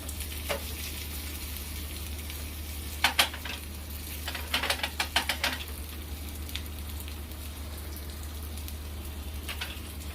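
Steady oil sizzle with occasional sharper crackles and pops as curry leaves, crushed ginger, garlic and dried red chillies fry in a pan; no talking.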